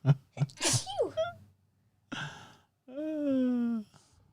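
A loud, close sneeze bursts out with a sharp intake before it, followed by a breathy exhale and a drawn-out vocal groan.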